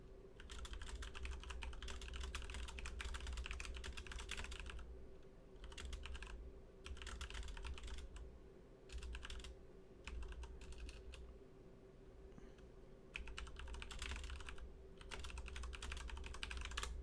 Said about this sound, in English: I got a keyboard specifically so that it makes typey noises.